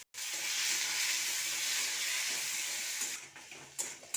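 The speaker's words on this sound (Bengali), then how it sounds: "তেলটা গরম হয়ে গেছে, আমি সবজিগুলো ভেজে নেব।" Vegetables seasoned with turmeric and salt fry in hot oil, a loud steady sizzle that is close and continuous, then briefly breaks into sputtering crackles toward the end.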